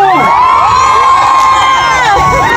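A loud crowd of Ilocanos shouts and cheers at a political rally, a dense sustained roar of voices with whoops rising over it, close and continuous throughout.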